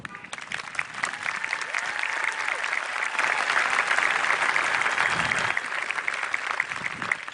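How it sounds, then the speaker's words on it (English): Sustained applause from a large outdoor graduation crowd at a stadium, steady and broad throughout, fairly distant, with a voice faintly over it. "can we have a round of applause for these people?"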